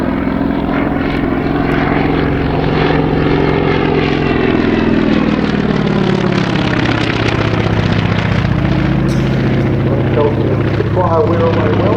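Aircraft engine drone with a propeller buzz from a plane flying a barrel roll at a centenary air show, loud and continuous, its pitch slowly rising and falling as it manoeuvres, with faint crowd or commentary underneath.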